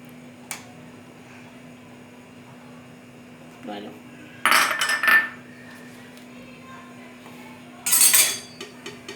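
A metal pressure cooker rattles and clanks on a stovetop as ghee is poured into it, with two bright bursts of metallic clatter over a steady kitchen hum.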